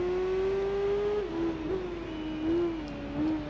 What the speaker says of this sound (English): Twin Ring Motegi on our modified superbike